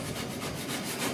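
Hand block sanding of primer/surfacer on the dash and firewall of a 1966 Ford F100, a steady continuous rasping rub close by with even strokes and no talk.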